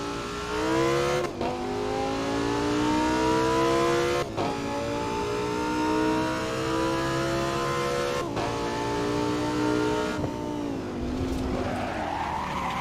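A race car in Assetto Corsa accelerates hard and loud, its engine note climbing through each gear and dropping at every upshift, with a brief tire squeal near the end.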